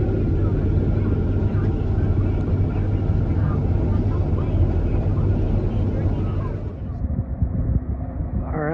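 A grain cart tractor on a rice farm drives up to fill trailers, its loud, steady diesel engine rumble dominating throughout and easing slightly near the end.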